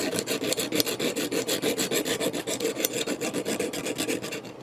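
Rapid, rhythmic abrasive scrubbing of rust off guitar hardware close up, a raspy back-and-forth scraping repeating steadily with no voices.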